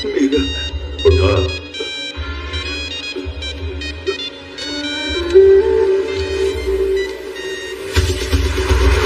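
A mobile phone rings in a repeating electronic tone pattern, loud and near, with voices and background sound around it.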